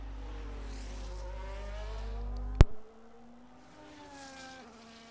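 Race car on a hot lap in an F1 video game, a high whining engine rising in pitch as it accelerates, a sharp crack as it passes, then a fainter engine drone continuing.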